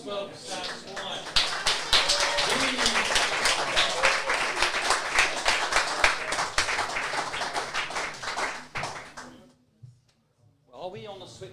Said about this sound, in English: And can we give a round of applause as well for Sam's wife?